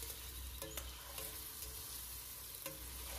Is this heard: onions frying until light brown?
yes